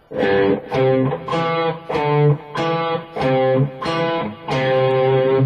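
Lead guitar plays the Prelude from Bach's Cello Suite No. 1, a clean lesson-style phrase of repeated arpeggiated note groups in a steady rhythm, loud and close with no talking.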